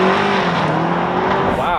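A 2024 BMW X6 M60i accelerates hard in Sport mode, its engine note rising loud and close inside the cabin for under two seconds, with people talking over it.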